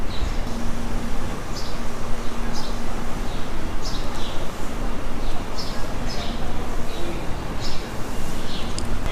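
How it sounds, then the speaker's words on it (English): Birds chirp in short, repeated high tweets on a quiet New York City street, faint against a constant broad roar of traffic and city noise. "You might be able to hear some birds chirping right now."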